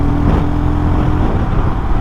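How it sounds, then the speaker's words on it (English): Royal Enfield Himalayan motorcycle engine as the throttle is opened: a loud, steady, close-up low rumble that holds fairly even for two seconds without a sharp rise in revs. "Or when you open the throttle,"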